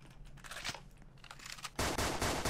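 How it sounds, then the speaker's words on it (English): Rapid gunfire in a Roblox shooter game, sparse bursts at first, then a loud sustained stream of shots near the end. "He's getting shot at."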